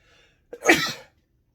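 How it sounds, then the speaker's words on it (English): A single loud sneeze bursts out after a short quiet stretch, then silence returns. "I think I'm going to sneeze."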